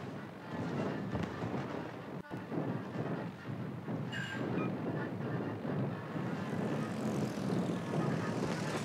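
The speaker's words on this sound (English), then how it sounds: "the way the torpedoes get thrown from these aircraft does seem a little bit hilarious" Propeller aircraft engines drone steadily in World of Warships: Legends as planes fly a torpedo run, a continuous mid-loud roar with a brief sharp crack partway through and no talking.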